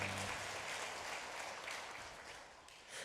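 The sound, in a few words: congregation applause in a church service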